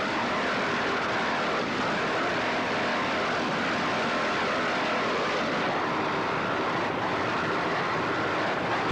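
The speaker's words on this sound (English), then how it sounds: "This boat is moving. All cylinders are humming right here" An offshore racing powerboat engine roars steadily throughout, loud and continuous with a broad, churning drone and no voices.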